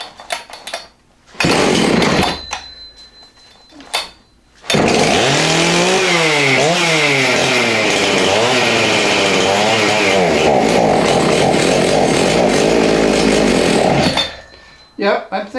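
A 1986 Husqvarna 181SE chainsaw restarted after choking: a few short sputtering bursts, then the engine catches and runs loud and close for about ten seconds with revs swinging up and down, before cutting out.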